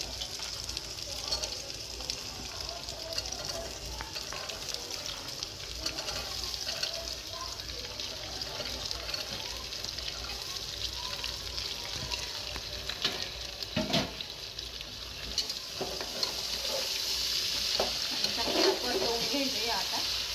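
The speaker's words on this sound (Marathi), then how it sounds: "कांदा थोडासा परतला का आता हे सगळ्या भाज्या टाकू राहिली" Onion with ginger-garlic paste and mixed vegetables sautés in a pan, making a constant soft sizzle with occasional stirring scrapes and clinks that grow slightly louder toward the end.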